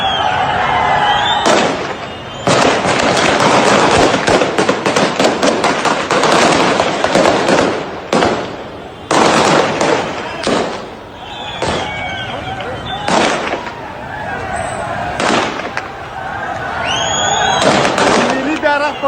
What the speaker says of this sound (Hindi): साथ ही पीछे से गोलियों की आवाज आ रही है।